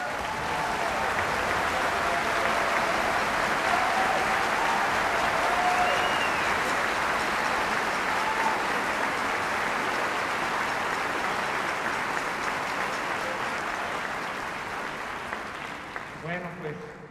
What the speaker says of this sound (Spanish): lo que quería pedirles es que les aplaudan